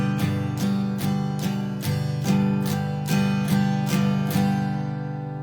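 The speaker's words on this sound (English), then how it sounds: "So straight strum sounds like this." Guitar chords strummed in a straight, even rhythm, each stroke ringing bright and full, about nine strums in a row up close.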